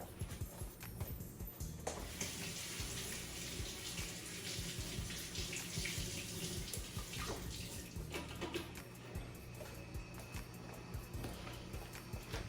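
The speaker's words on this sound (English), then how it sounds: "and I'm going to rinse these." Green onions being rinsed under a running kitchen tap, a steady close hiss of flowing water with splashing and clattering as the bunch is moved in the stream, no talking.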